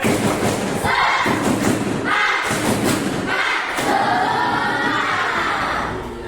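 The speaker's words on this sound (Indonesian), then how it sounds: "Lagi tepuk semangat." A group repeats the rhythmic 'tepuk semangat' spirit clap, loud patterned bursts of clapping with crowd noise and shouting mixed in.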